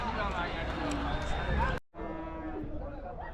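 Cattle and calves at the Muthunayakkanpatti livestock market in Salem, with occasional moos amid a busy, noisy crowd and people talking nearby.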